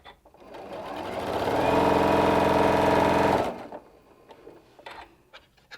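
A sewing machine stitches fabric along a LeMoyne star template, running in a steady rapid whir that ramps up, holds for a couple of seconds, then stops, followed by faint handling clicks.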